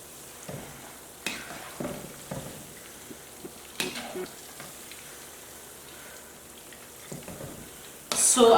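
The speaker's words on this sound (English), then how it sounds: "So I would normally leave them cook for about 10 minutes on the oil" Banana fritters fry in hot oil over medium heat, a soft, close sizzle broken by scattered stirring clicks and knocks, with a louder burst of sizzle near the end.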